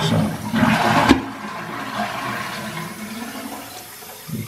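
Toilet cistern flushing with a loud rushing gush of water that fades into a gurgling drain; the cistern is slow to refill.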